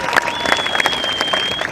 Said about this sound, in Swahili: Nipe Bwana makofi kwanza sana.